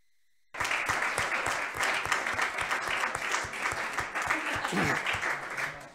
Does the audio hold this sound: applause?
yes